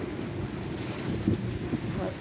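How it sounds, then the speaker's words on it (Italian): A violent late-summer rainstorm at Quartu Sant'Elena, Sardinia, with steady heavy rain hissing and drumming close by, a few louder gusts or splashes, and a voice briefly audible under the downpour. "Questa è una tempesta del 1 settembre."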